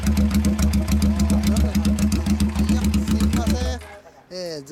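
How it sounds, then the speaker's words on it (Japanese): A ZRX1100 motorcycle with a Babyface aftermarket muffler idles close by in a steady, throbbing rumble, then cuts out near the end. People talk briefly afterward. "エンジン音聞かせて"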